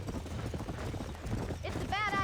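Horse hooves clip-clop steadily in the Red Dead Redemption video game, a continuous rhythmic trot under dense layered game sound, with a rider's shouted urging and a horse whinny near the end.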